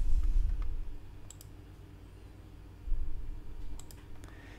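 Computer mouse clicks sound sharply and close during a software tutorial, a few isolated clicks spaced apart over a low hum and faint handling thumps.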